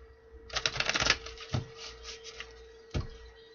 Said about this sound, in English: Two more shuffles, my guys.